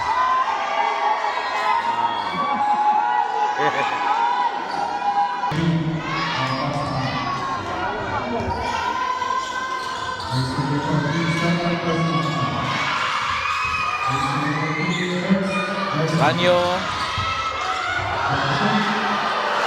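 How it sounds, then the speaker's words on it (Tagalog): Spectators at a seniors basketball game in a summer league cheer, shout and whoop loudly after a basket, children's high voices prominent, with ball bounces and a commentator's voice mixed into the roar. "The crowd goes wild"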